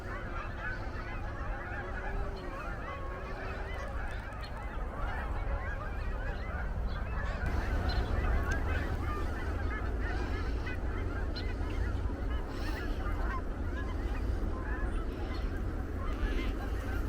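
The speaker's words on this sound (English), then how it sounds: "I hear a lot of ducks right now, so I guess the mallard ducks are coming in" Mallard ducks calling at a wetland with fresh water, a dense chorus of honking and quacking waterfowl filling the outdoor scene steadily, with a faint wavering call early on.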